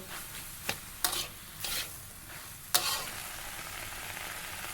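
Sweet corn is stirred in a hot pan, giving a quiet continuous sizzle with a few scattered spatula scrapes and clinks, close and moderately soft, with no voices.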